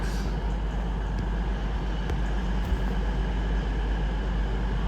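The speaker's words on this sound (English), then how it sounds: "Departing now is a cross country service off to Edinburgh" CrossCountry train pulling out of Durham station bound for Edinburgh, a steady rumbling roar of the passing train, continuous and fairly close.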